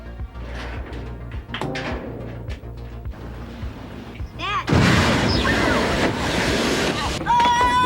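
A giant gasoline explosion set off by a group of boys in a Rescue 911 TV episode bursts in loudly midway, a broad roaring blast that follows earlier talk over music and lingers as rumbling noise.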